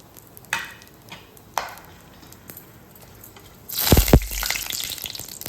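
Whole cinnamon, cloves, cardamom, bay leaf and star anise hit hot oil for a one-pot peas rice. A few soft taps come first, then a loud, steady sizzle bursts up and keeps going, close by.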